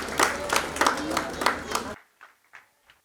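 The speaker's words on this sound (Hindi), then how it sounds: "जोरदार तालियां होनी चाहिए उनके लिए" Applause from the crowd at an award ceremony in a mall, loud and dense for about two seconds, then cutting off abruptly to a few scattered, fainter claps.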